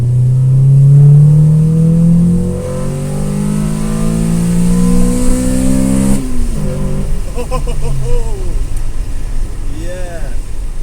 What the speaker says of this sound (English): That's the first time I've actually given it full throttle with this air intake on